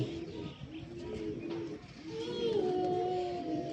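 Pigeons cooing nearby, soft repeated low throaty calls overlapping one another against a quiet background.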